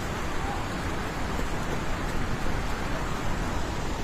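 A flooded river rushes during a disaster in Nepal, giving a continuous loud roar of churning water that stays constant and near for the whole stretch, with no talking.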